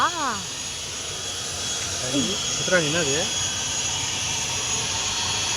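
At an airport, a steady broad roar of airplane jet engines carries in the background while a few short voices speak over it.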